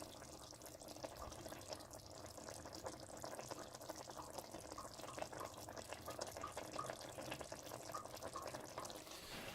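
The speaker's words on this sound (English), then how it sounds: "I'm going to drain this pasta." Spaghetti pasta drained of its hot cooking water, a steady wash of pouring, splashing liquid running continuously and fairly quietly with faint bubbling, no voices.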